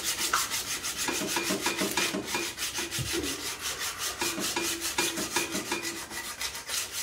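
Spokeshave blade rubbed back and forth on 120 grit sandpaper mounted on an aluminum block, a close, steady rasping scrape in quick regular strokes, continuous with no talking.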